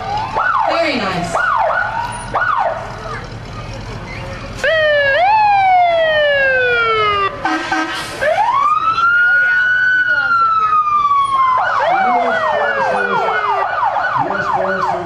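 U.S. Forest Service Fire Engine 22, stationed at Dorrington, sounds its siren during a town parade in Arnold. The siren is loud and close, alternating rising-and-falling wails with rapid yelping sweeps, steady throughout with a faint crowd beneath.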